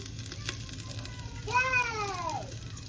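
Dried chilli, ginger paste and panch phoron fry gently in pure cow's ghee with a soft, steady sizzle, and a brief high, wavering voice-like call rises over it partway through.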